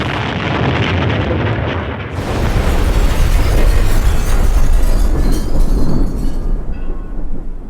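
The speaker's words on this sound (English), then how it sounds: "Then suddenly, an explosion." A bomb blast inside a busy fish shop on a Saturday afternoon: a loud, sudden roar erupts after a low rumbling lead-in and continues as dense, sustained noise before tailing off, with no voices.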